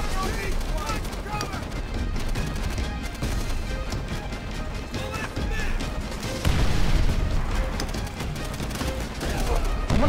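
Gunfire in Call of Duty: World at War at Shuri Castle, dense rapid shots and booming blasts crackling almost without pause, with someone talking over the battle.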